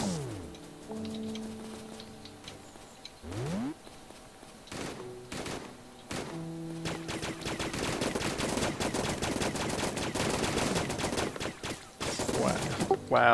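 Guns fire in the video game Starbound, a quick volley of synthetic shots and tones at first, then dense rapid overlapping gunfire that builds through the second half, at moderate level.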